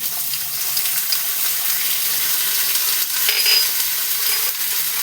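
Ginger and green chili paste hits a hot pan for a vegetarian cabbage curry, setting off a steady, loud hiss of sizzling oil that holds evenly throughout with faint scraping underneath.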